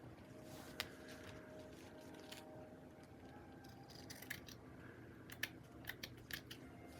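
Scissors trimming paper for a junk journal, giving a few faint, scattered snips and crisp cuts, sparse and close against a quiet room background with no talking.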